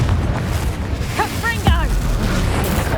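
A Confringo blasting spell in Hogwarts Legacy goes off as a deep, rumbling boom under a continuous low battle rumble, and a voice briefly calls out in the middle.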